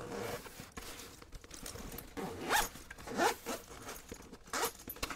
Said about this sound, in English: it shouldn't be hard to zip up at all